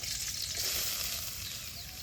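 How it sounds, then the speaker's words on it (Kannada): Onion frying in hot oil in a home kitchen, a dense, steady hiss and crackle close up, continuous and without voices. "ಸೊ ಎಣ್ಣೆ ಕಾದಿದೆ, ಸೊ ಎಣ್ಣೆಗೆ ಈಗ ಈರುಳ್ಳಿ ಹಾಕುವ."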